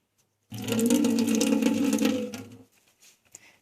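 Water runs from a makeshift water setup inside a camper van, a steady close rushing pour lasting about two seconds before cutting off, then a few small clicks and drips.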